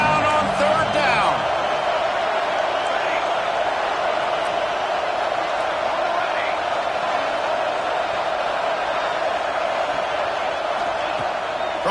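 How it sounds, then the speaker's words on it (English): A football stadium crowd roars for the Gators defense on third down, a dense, steady wall of cheering and whooping that fills the whole stretch while a commentator talks over it. "This crowd unhinged, trying to make sure the Gators don't back down on 3rd down."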